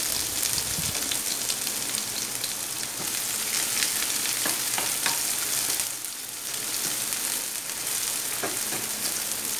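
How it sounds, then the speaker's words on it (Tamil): Vadagam and onions fry in hot oil with a constant crackling sizzle, dotted with sharp pops and spatters like rain on a surface, close and loud throughout, with no speech. "எண்ணெய் காஞ்ச உடனே நம்ம வந்து இந்த வடகத்தை போட்டுடலாம்"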